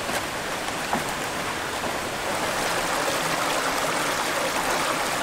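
A stream runs beside a backpacking trail in Indiana, giving a steady, even rush of flowing water that fills the whole stretch without pause, fairly close and with no talk over it.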